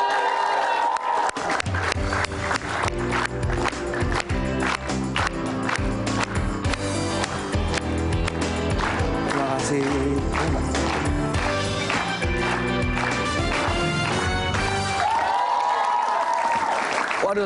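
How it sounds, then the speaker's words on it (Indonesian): A studio audience at an Indonesian talk show applauds and cheers a guest. The lively clapping runs steadily under loud, rhythmic music for the whole stretch. "Mari berikan saya tepuk tangan yang meriah untuk Maisida Salas"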